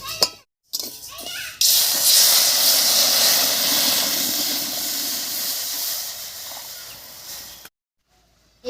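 Water poured into hot pan of red-fried urad dal (biulir dal), a sudden loud hissing burst of steam that gradually fades, with brief clatter before it and silence after.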